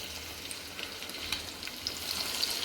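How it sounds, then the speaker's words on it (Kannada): Egg cutlets coated in bread crumbs frying in a pan of oil, giving a steady, close hiss and sizzle with faint crackles throughout and no voice. "ಇನ್ನು ಎಲ್ಲವನ್ನು ಹಾಕಿ ಫ್ರೈ ಮಾಡುವ ನೋಡಿ"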